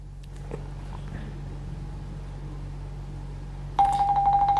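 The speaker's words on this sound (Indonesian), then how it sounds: "mungkin satu telepon lagi" During a phone-in call segment, a telephone starts ringing near the end as a steady electronic tone. Before that there is a low background hum and some faint clicks.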